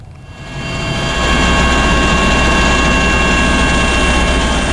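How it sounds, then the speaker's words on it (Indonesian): A Basarnas rescue helicopter flying over the Bali Strait gives a loud, steady engine and rotor roar that builds over the first second, then holds level and sustained, with no voices. "Tim gabungan Basarnas melakukan pemantauan udara menggunakan helikopter di atas perairan Selat Bali"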